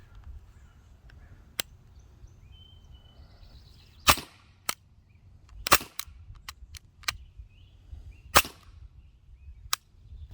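A Glock 17 Gen 5 CO2 blowback pellet pistol in .177 fires several sharp, snappy shots at irregular intervals over a quiet background, some louder than others, with faint handling clicks in between.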